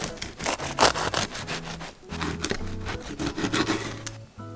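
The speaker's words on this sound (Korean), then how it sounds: "따뜻할 때 잘라 먹으면 정말 맛있거든요" A freshly baked whole wheat bread loaf being sliced with a knife, repeated rasping saw-like strokes in a steady back-and-forth rhythm, close and crisp, with a few soft thuds and no talking.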